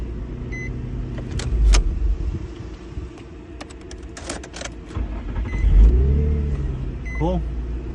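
A 2004 Nissan 350Z cranks and starts on a newly programmed key, engine turning over and catching with a rumbling rise, near and loud, among clicks and chimes inside the car.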